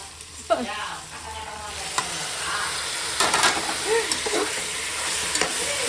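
Tomatoes cut into round slices sauté in a hot pan with a constant sizzle, joined by intermittent clinks and scrapes of stirring and a few faint background sounds.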